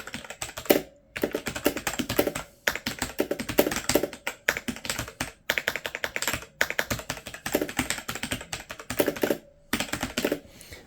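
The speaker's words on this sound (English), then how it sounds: "This is the pen click keyboard." Rapid, loud clicky typing on a pen click keyboard, bursts of keystrokes with short pauses between them, very close and with no voices.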